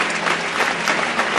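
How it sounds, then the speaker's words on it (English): A crowd in France applauds after a national moment of silence, dense sustained clapping from many hands that stays loud and even throughout, with no voices standing out. "They're all here, and they're still applauding."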